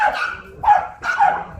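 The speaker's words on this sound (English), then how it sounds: "Nice dog right here." A working dog gives three loud, close barks in quick succession, each a sharp yelp-like bark with brief pauses between, heard alone without talk.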